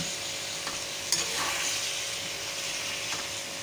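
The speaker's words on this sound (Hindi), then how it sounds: "मसाला भूनना शुरू हो गया है। अब हम इसमें डालेंगे टमाटर जो हमने काट के रखे थे।" Masala and tomatoes fry in a pan for a tomato-onion chutney, a dense, steady sizzle with faint crackles and a scrape or two of stirring, close and continuous.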